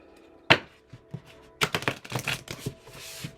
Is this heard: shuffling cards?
yes